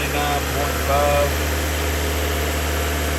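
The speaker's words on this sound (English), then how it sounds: "Got in the car and started revving her up again so she can circulate" A 2020 Toyota Corolla engine held at raised revs after a condenser replacement, giving a steady mid-pitched hum with a slight surge early on and a brief voice at the start.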